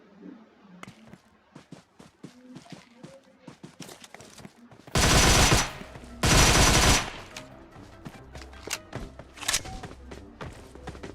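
PUBG Mobile gameplay: two loud sustained bursts of automatic gunfire stand out amid scattered single shots, thuds and footstep-like taps throughout.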